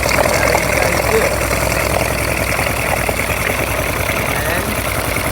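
A freshly restored engine runs for the first time, a steady, loud idle with a dense mechanical rumble and fine knocking texture that continues unbroken throughout.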